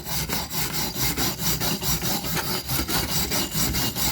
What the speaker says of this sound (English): I'm going to clean off this weld real quick.